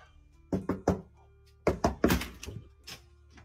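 Knocking on a front door in two bursts of three hollow thuds, heard close and fairly loud in a quiet room with faint background hum.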